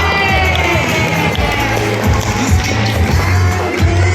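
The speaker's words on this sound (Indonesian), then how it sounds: "Beri tepuk tangan yang meriah untuk kita semua." Audience at an elementary school end-of-year stage performance cheering and clapping, a loud steady roar of crowd noise with children's shouts mixed in.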